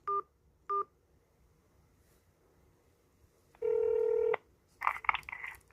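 Two short keypad beeps, a pause, then a longer steady tone from a phone dialing into an election commission hotline menu, followed by a burst of clipped electronic ringing, all clear and close.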